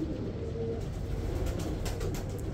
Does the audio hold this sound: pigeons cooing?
yes